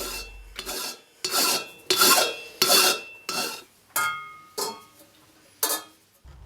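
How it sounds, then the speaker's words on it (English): A hand file works over a silver-soldered joint on a metal podform sculpture, rasping in about nine firm, evenly spaced strokes, close and loud with brief pauses between each pass. "It is filed down to remove any excess silver solder and smoothen out the joint."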